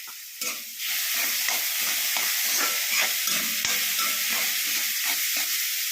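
Garlic, green chili, turmeric and coconut paste sizzle and fry steadily in hot oil, with a spoon repeatedly stirring and scraping the pan up close; no talking.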